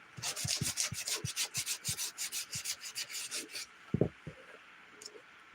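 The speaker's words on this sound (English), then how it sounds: "trying to fight with the dang sandpaper" Sandpaper rubbed by hand over a surface in about fifteen quick, even back-and-forth strokes, close and fairly loud, then it stops and a couple of soft knocks follow in a quiet room.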